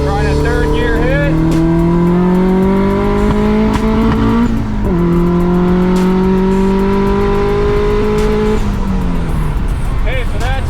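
A built H22-engined third-generation Honda Prelude pulls hard through third gear, its loud, close engine note climbing steadily in pitch, dipping briefly at a shift, then rising again with a continuous roar.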